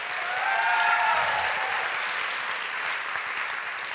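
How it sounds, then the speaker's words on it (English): An audience at the Spring Swing 2016 senior recognition ceremony applauds the senior class with a full, steady wash of clapping. A brief whistle-like tone rises through the noise early on. "you should give yourselves and your classmates a round of applause"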